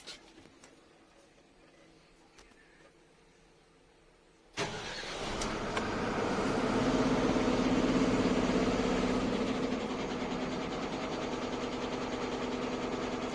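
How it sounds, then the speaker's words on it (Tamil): A BS6 16-wheel truck's diesel engine cranks abruptly to life after quiet cab ambience, then settles into a loud, steady, throbbing idle close by. "வண்டியை ஸ்டார்ட் பண்ணி காமிக்கிறேன் சவுண்டு கேட்டு பாருங்கள்"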